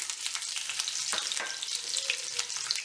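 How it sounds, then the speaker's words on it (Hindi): Garlic and ginger frying in hot ghee, a soft, steady sizzle with faint crackles and a stirring scrape, with no talking. "दोनों को हम हल्का फ्राई करेंगे।"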